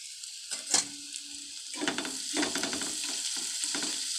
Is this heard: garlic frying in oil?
yes